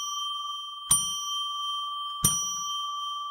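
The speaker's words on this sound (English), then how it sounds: "we'll get ready for show number 430 after we ring the bell" A small bell is struck twice, each a sharp metallic ding that rings on as a clear, sustained tone over a quiet room. No one speaks.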